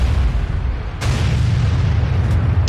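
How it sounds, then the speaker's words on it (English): An artillery shell lands during a Tier 8 World of Tanks battle, a single sharp boom that cuts through a loud, constant rumble of battle noise. "And there's that arty shot that I was trying to avoid."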